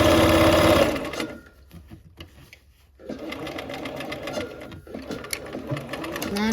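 A sewing machine stitches a seam in short bursts: a loud close run, a quiet pause, then renewed uneven stitching with stops and starts.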